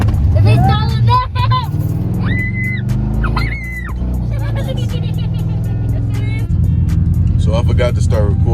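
A rebuilt Dodge Charger R/T with a 5.7 Hemi driven around, a loud steady engine drone close by under continuous talking and some high-pitched electronic sounds.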